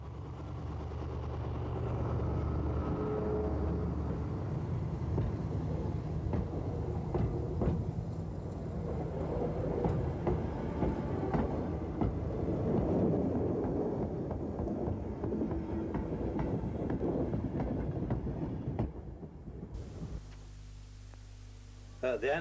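A Hymek diesel locomotive hauls a train on the East Lancs railway, a low, continuous engine rumble with rolling noise that holds steady for about twenty seconds, a narrator speaking over it throughout.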